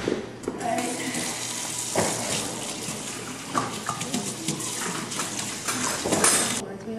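Salad vegetables are rinsed under a running kitchen tap, with a steady stream of water, splashing and occasional clinks of dishes in the sink, while people talk nearby.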